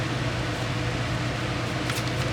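Steady broadband whoosh of an electric fan running continuously, close and even, with no talking.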